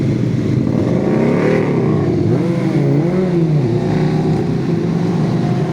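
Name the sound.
car revving nearby, background noise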